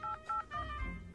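Phone keypad tones sound as a number is dialed. Three or four short beeps come in quick succession, close and clear, then fade into a low murmur.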